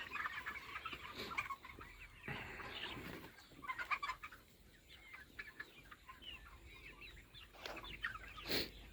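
A flock of 70-day-old chickens clucking and chattering in a steady overlapping chorus at moderate distance, with occasional wing flaps and a louder call near the end.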